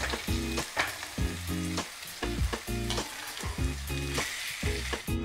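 Tomatoes and onions fry in a pan over a low gas flame, giving a steady close sizzle broken by repeated scraping stirs in a regular rhythm, with no voices.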